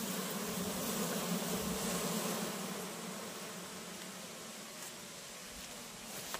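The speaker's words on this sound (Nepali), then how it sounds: "यहाँ मेरो माटोको डुनमा बनाएर राखेको मौरी" Honey bees buzzing around a clay hive, a dense steady swarm hum close to the microphone that holds evenly throughout, with no talk.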